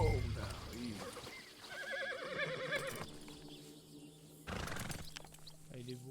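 A horse in Red Dead Redemption 2 neighs loudly in a long, wavering whinny, then gives a second shorter whinny, with hoof clip-clops and someone speaking softly around it.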